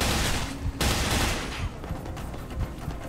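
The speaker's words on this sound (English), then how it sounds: "Couple shots there." Gunfire rattles in the F.E.A.R. Online video game as dense, loud bursts of shots in rapid clusters, with a heavy, noisy combat backdrop throughout.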